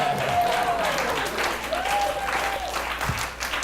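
Studio audience applause, a steady wash of clapping lasting several seconds, fairly loud and close, with some talk and whoops mixed underneath.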